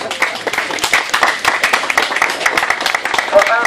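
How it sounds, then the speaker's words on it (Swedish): An audience at a Swedish historic racing event applauds, a dense, steady patter of many hands clapping close by for several seconds. "Så det är en applåd till för det"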